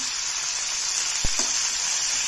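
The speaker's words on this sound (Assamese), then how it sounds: "সামান্য নিমখ দি ভাজি লৈ আছো।" Vegetables with a little salt and a pinch of five-spice seeds fry in a pan, giving a steady, even sizzle with a brief utensil knock partway through.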